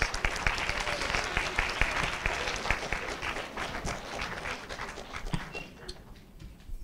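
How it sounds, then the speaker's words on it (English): Audience applause at a seventh-grade school spelling bee, a fairly close burst of clapping from a modest crowd that fades out over several seconds. "Another round and another round of applause."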